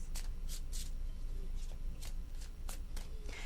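Tarot cards are shuffled in quick, papery riffles, several short bursts in a row, close by against a steady low hum.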